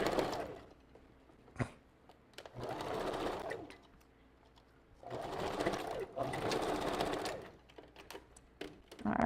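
A sewing machine runs in two sustained bursts while backstitching wig material, a close whirring hum with quiet pauses between runs.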